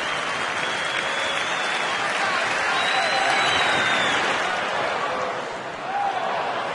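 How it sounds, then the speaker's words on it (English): Baseball fans in a ballpark clapping after the third out in the top of the eighth inning, a broad, steady roar of crowd applause that stays loud and even, swelling slightly midway before dipping briefly near the end. "Fans are clapping for that third out here in the top of the 8th."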